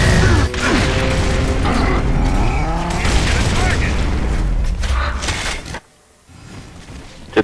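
Grenade blast in the Gears of War co-op game, a loud boom within dense, continuous game combat noise and mechanical clatter, with a brief near-silent gap afterward; players talk over it.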